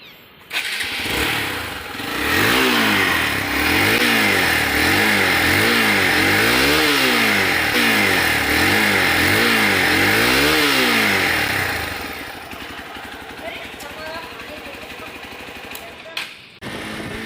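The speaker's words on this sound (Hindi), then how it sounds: "So let's hear the sound of the exhaust note." A Hero Xpulse motorcycle fires up and revs repeatedly, its exhaust note rising and falling in several loud, close cycles before settling back to a rough idle.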